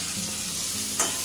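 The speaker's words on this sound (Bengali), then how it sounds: "আলু ভাজা হয়ে গেছে, ওই নিজে করেছে, এবার মশলা ঢেলে কষাবে" Potatoes fry in a pan on an Indian home stove with a continuous close sizzle. A brief scrape of stirring comes near the end.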